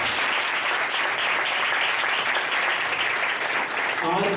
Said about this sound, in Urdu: خداوند کی اس کاوش کے لیے زوردار تالی بجائیں گے۔